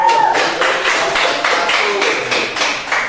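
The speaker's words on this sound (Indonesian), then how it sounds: "Oke, berikan tepuk tangan dulu." A small group claps together, a steady patter of hand claps lasting a few seconds, close and fairly loud, with a voice briefly at the start.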